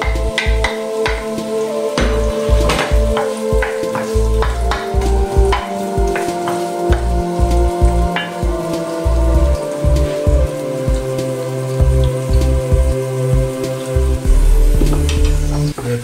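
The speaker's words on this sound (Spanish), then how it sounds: "nuestro ajito que han empezado ya a cantar un poco y con las mismas vamos a pochar un poquito de cebolla" Garlic and onion sautéing in a pan for traditional Andalusian artichokes, a steady crackling sizzle with dense irregular pops and clicks, close and fairly loud, no talking.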